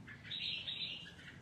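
A songbird of a kind kept and sold by bird traders chirps in a continuous high twittering run, fairly close but faint, with no voices present.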